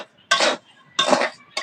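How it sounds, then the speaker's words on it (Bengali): Sand being stirred in a kadai over a stove to heat it for baking a cake, giving two loud gritty scraping sweeps about half a second each with a short third starting at the end, no talking. "বালিটা না নাড়াচাড়া দিয়ে একটু গরম করে নেব।"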